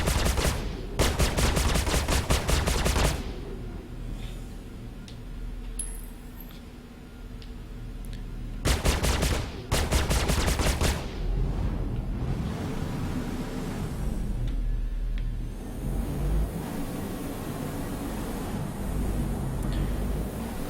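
Spaceship weapons in Star Citizen firing all at once in two long rapid-fire bursts, a harsh dense rattle loud and close, separated by quieter engine hum and cockpit ambience.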